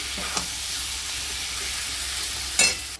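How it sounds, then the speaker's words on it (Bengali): Chicken pieces sizzle in a pan of fried onions for chicken do pyaza, a constant hiss with a couple of brief scraping stirs near the start and end. "পেঁয়াজটা ভাজা হয়ে গেছে, এবার চিকেনটা ওর মধ্যে ঢেলে দিলাম। একটু ভালো করে নেড়ে ছেড়ে নেব।"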